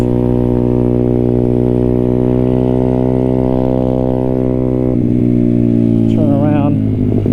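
Honda CRF motorcycle engine running loud and close, holding a steady drone that stumbles and breaks up at higher revs, with a voice speaking over it.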